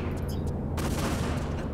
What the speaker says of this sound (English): she is constantly shooting at us